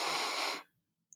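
A person takes one deep breath in during a guided breathing session, a close, steady airy inhale lasting just over half a second, then trailing into near silence with a tiny click at the end.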